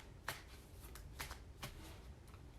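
Osho Tarot cards are shuffled by hand in a few quick riffling bursts, soft and close, in a quiet room.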